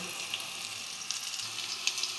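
Vegetables fry in a pan with ginger paste, a soft, even sizzle heard close but faint, with occasional small crackles across two seconds.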